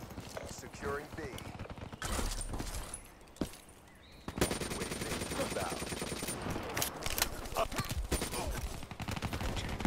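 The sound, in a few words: RECR gun firing in a video game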